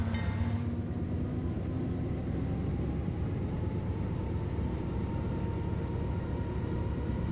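A long train rumbles past in the video game Team Fortress 2, a steady, heavy low-frequency roar with a faint tonal hum that carries on evenly from start to finish without speech.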